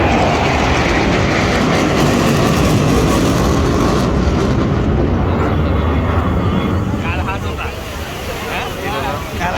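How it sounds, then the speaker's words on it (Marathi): An Indian Air Force Suryakiran jet circling over Marine Drive in Mumbai during an air show: a loud, steady broadband engine roar fills the whole stretch, with wind and crowd noise mixed in and a voice talking over it. "इकडे प्लेन आलेलं आहे, ती बघा पाहू शकता तुम्ही. तेवढं मोठं आहे ते बघा आणि ते गोल फिरत आहे बघा."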